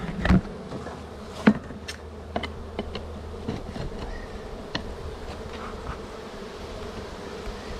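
Honey bees buzz around an open hive, a steady close insect hum with a few sharp knocks and clicks from handling the wooden hive parts.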